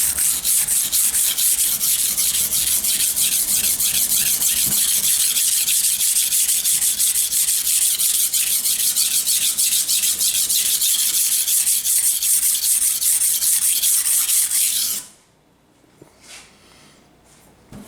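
A kitchen knife with a bent tip is stroked back and forth on a flat sharpening stone, giving steady, close, gritty rasping that runs continuously for about fifteen seconds, then stops abruptly, leaving near silence with a few faint handling sounds.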